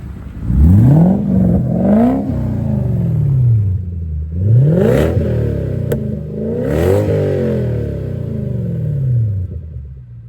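A car engine with a loud, throaty exhaust revs up sharply several times, each burst rising and falling back to a rumbling idle.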